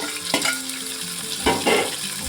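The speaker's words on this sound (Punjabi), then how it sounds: "ਪਿਆਜ਼ ਨੂੰ ਅਸੀਂ ਚੰਗੀ ਤਰ੍ਹਾਂ ਗੁਲਾਬੀ ਕਲਰ ਦਾ ਭੁੰਨ ਕੇ ਤਿਆਰ ਕਰਾਂਗੇ" Grated onion frying with garlic and ginger in a pan, giving a steady close sizzle with a few stirring scrapes and clatters and no voices.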